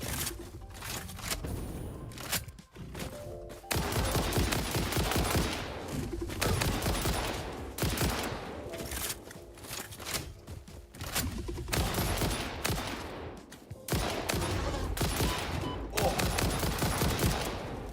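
Rapid bursts of gunfire from a weapon in the video game Satisfactory, loud and dense, coming in long volleys broken by short gaps, apparently during reloads.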